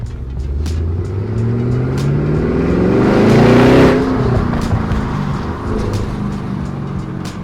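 A straight-piped Audi S7's loud exhaust rumbles close by, swelling into a throaty rev that climbs and then falls back to a deep idle burble.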